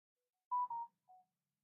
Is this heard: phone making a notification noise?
yes